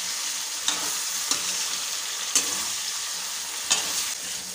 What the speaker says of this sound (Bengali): মাছটাকে ভালো করে ধুয়ে সবজিটাকে ভালো করে মজিয়ে নিচ্ছি আমি।